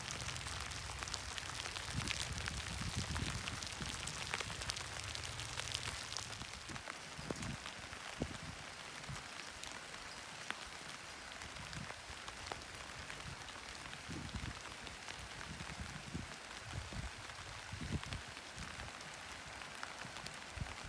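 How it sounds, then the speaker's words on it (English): Steady rain patters over patio peony plants in a peony garden, a continuous broadband hiss with scattered sharper drop ticks throughout, fairly close and with no talking. "getting some rain on them right now"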